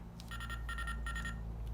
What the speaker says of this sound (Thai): แล้วก็กดตัวนี้นะผมอ่ามันก็จะเป็นเสียงโทรศัพท์นะครับผม